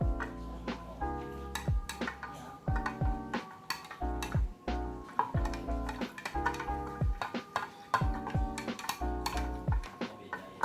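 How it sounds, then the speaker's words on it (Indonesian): A spoon stirs an electrolyte solution in a glass, tapping and clinking against the sides in quick, steady, ringing ticks that run throughout at close range. "Kemudian kita akan aduk."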